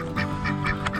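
Ducks and geese honking and quacking at a farmyard bedtime, several birds calling in short repeated bursts close by, loud and steady with no talk.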